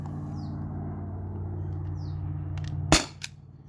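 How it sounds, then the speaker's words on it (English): A T4E HDP50 Gen 2 CO2 pistol fires steel balls on a nearly spent gas cartridge: one sharp, loud shot stands out over a steady low hum, followed by a fainter click shortly after. "So this will probably be the last 5 rounds with this same CO2 cartridge"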